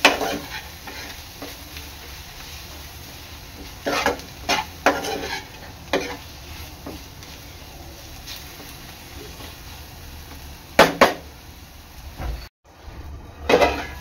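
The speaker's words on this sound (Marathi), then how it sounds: "तर मसाले आहेत ना चांगले शिजवून घ्यायचे आहेत तेलामध्ये" Agri Koli masala spices cooking in oil in a pan, a low steady sizzle running throughout with occasional sharp scraping and stirring clatters of a utensil against the pan.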